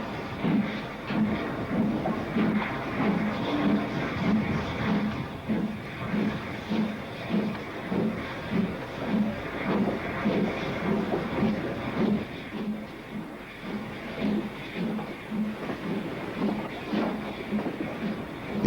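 A steam locomotive running on a preserved British line in 1958, captured from the cab, with a steady rhythmic chuffing beat and continuous rumbling wheel and rail noise throughout.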